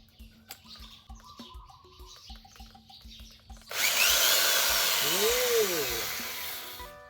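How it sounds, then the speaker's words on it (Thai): A power drill bores into a hand-made bang fai rocket, starting after a few seconds of birdsong and quiet tapping, with a loud steady whine and a brief pitch dip as the motor speed changes. "วิธีการในการเจาะด้วยพี่น้อง ให้ จับขึ้นไปประมาณ45องศาแบบนี้แล้วก็ ค่อย ๆค่อยแท่งเข้าไปครับพี่น้อง"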